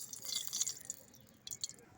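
Oil trickles into a heated wok in a brief, faint pour with a few soft dripping splashes.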